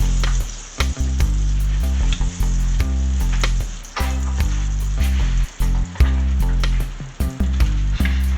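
Butter sizzles and spits in a hot pan as a knife rubs it around, with continuous loud frying crackle and scraping strokes.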